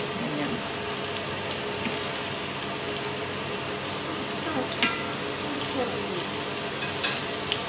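Sweet potato and carrot pieces fry in hot oil for a chicken caldereta, giving a steady, dense sizzle with faint crackles that holds evenly throughout.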